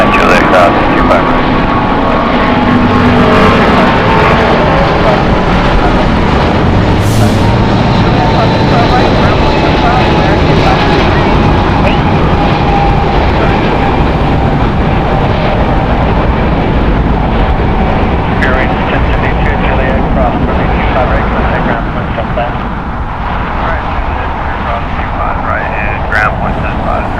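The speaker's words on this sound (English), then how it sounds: "Very nice departure and sound by that 777." A Boeing 777 departs Los Angeles International Airport, its jet engines roaring loudly and steadily for the full length as the aircraft climbs away, with no other sounds breaking through.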